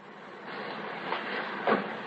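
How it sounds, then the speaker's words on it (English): A train waits at a loading platform as troops board, a radio drama sound effect of continuous rumbling railway noise with a couple of brief knocks and clanks. "I watch as they pile aboard the waiting train."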